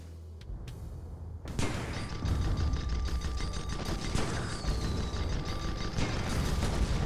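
Rapid sustained gunfire from a Gatling gun in a skirmish video game, a dense continuous roar after a quieter start, with a faint tonal whine running through it.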